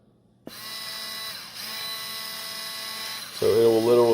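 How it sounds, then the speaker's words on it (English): Rechargeable electric salt and pepper mill grinding, a steady close motor whir that holds for several seconds, then shifts to a louder, lower grinding tone near the end. "hopefully you can see the grinding, the turning in there"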